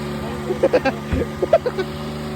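A Tarzan gaadi vehicle engine idles steadily after starting, a low continuous hum running through the whole stretch while voices talk over it.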